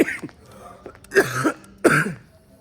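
Several harsh coughs and throat-clearing bursts come in quick, uneven succession, close to the listener, with short pauses between.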